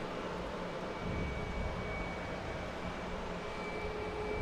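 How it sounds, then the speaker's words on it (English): Cape Air propeller plane arriving at Boston Logan Airport from Martha's Vineyard, a continuous broad engine roar holding steady and fairly loud, with a thin whining tone running through it, heard alone without voices. "Cape Air coming from Martha's Vineyard."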